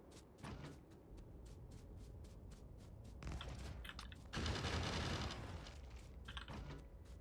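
Automated gun turrets in the Factorio video game fire rapid, evenly spaced shots, with the volley thickening into a denser, louder burst of fire partway through against a steady mechanical background.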